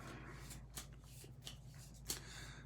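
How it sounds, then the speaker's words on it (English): Game cards are shuffled by hand at close range, quiet papery riffles and soft flicks with a few sharper snaps, over a low steady hum in a calm room. "Here, I'll shuffle these up."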